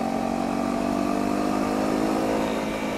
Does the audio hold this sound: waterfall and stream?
no